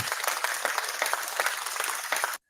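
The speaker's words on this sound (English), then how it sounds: "a round of applause to Burry Lurkin" A small group claps in a steady burst of applause, close and fairly even throughout, stopping abruptly at the end.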